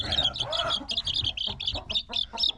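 Young chicks chirp in rapid, bright, high peeps, overlapping in quick bursts close by, with faint low clucking or shuffling underneath and no talking.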